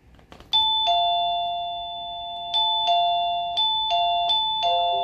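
An electronic doorbell chimes several times, each two-tone ding ringing out and fading, clear and close in a quiet room.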